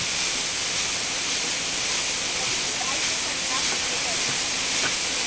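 Ice blown through a hose into a fishing boat's hold, a loud, steady, hissing rush with a faint sound of pellets scattering beneath it. It stays constant throughout with no breaks.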